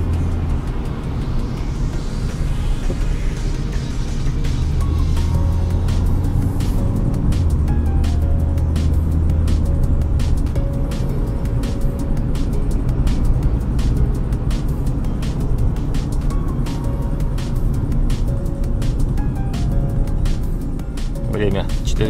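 A chip-tuned Lada Granta with an automatic transmission drives along, its engine a steady, loud low drone heard from inside the cabin, with a voice present over it.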